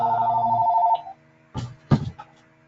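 An office telephone bell rings once for about a second during a legislative committee meeting, then falls quiet, followed by a few faint knocks and movement sounds.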